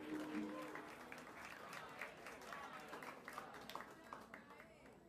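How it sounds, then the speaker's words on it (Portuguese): Audience at a Cuban and Latin jazz big band concert applauds, a faint, dense patter of many hands clapping steadily for several seconds with some voices mixed in. "Palmas para Thaís, por favor."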